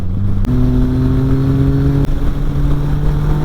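Motor vehicles passing on a road in the Masuria region during a motorcycle ride, heard as a steady engine drone with a couple of sharp passing bursts, close and fairly loud.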